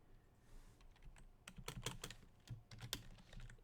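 Someone types a comment on a computer keyboard, with quick, close, irregular clicks of keys coming in short bursts against a quiet background and no talking.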